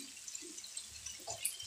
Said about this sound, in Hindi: साथ ही 1 लेमन का रस मैं ऐड करने लगी हूँ।